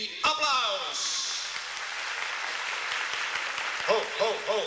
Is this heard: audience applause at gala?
yes